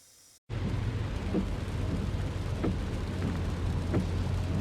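Heavy rain drums steadily on a car during a ride home, with a low rumble underneath. It starts abruptly after a brief quiet moment and stays loud and even throughout.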